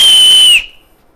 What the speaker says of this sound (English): it's a really loud whistle